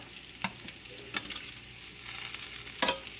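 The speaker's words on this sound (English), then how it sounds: "Everyone's really happy about this bacon that we got cooking." Bacon frying in a pan, a steady soft sizzle with a few sharp crackles and pops at intervals, close by, with no talk over it.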